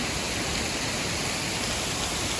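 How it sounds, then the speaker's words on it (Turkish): The Yeşilköy waterfall roars as a steady, dense rush of falling water, loud and unbroken throughout with no voices. "evet, şelalenin bu kısmına ben bayıldım"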